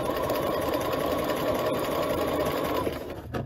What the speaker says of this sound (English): I am just stitching at 5/8 of an inch, removing each pin